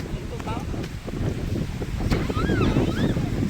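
Waves wash onto a seashore with a steady surf roar and wind buffeting the microphone, while voices talk faintly over the noise.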